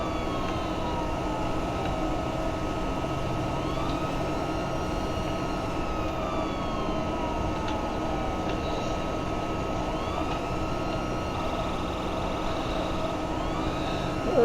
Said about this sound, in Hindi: हेलीकॉप्टर्स और दूसरी गाड़ियाँ वो जा रही हैं।